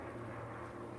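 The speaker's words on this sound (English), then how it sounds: "Oh, we have a seaplane." A seaplane passes overhead outdoors, its propeller engine a steady, low droning rumble that holds at an even loudness for the whole moment with no talk over it.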